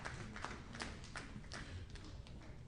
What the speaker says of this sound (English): let's give all our Percentage Bull exhibitors a nice round of applause